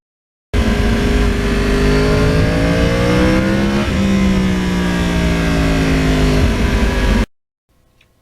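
A 2020 Yamaha R1 motorcycle engine roars close and loud while riding on a bumpy road, its pitch climbing through the gears with a shift partway through. The sound cuts off abruptly near the end.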